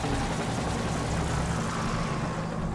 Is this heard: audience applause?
no